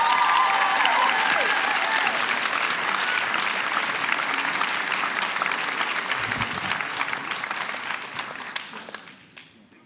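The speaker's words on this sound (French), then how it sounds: "s'il vous plaît, des applaudissements étourdissants pour Achille Abrams" An audience at the final of a fifth-edition high-school eloquence contest gives a finalist a long burst of dense, loud applause that holds steady and then fades away at the end.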